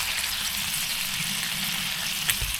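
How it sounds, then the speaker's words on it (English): Fat renders from crispy skin in a hot pan on a stove inside a OneTigris one-man hot tent, giving a steady, close, dense sizzle with small crackles and no talking. "You hear that sizzling away"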